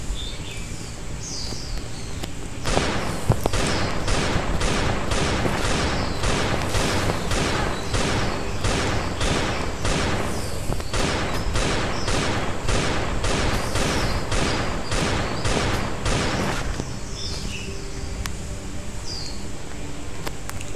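Rapid, evenly spaced gunshots fired in the survival video game Last Day on Earth: Survival, a loud sustained volley of roughly two shots a second that runs for about fourteen seconds before stopping, with faint birdsong behind it.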